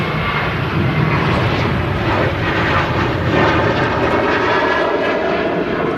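A six-year-old Sun Express airliner, flight 505 to Dalaman, takes off at Manchester Airport with a loud, sustained engine roar close by, broad and steady throughout with no talk.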